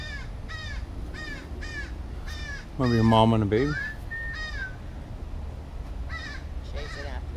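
Crows caw in a repeated series of harsh, moderately near calls outdoors, with one louder, lower squawk in the middle, as people talk quietly nearby.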